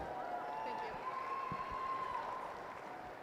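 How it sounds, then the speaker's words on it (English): Audience applause for the first class at a Catch-A-Calf show, steady crowd clapping with some cheering held through the clip, with a faint tone and voices underneath. "Let's give our first class a big round of applause."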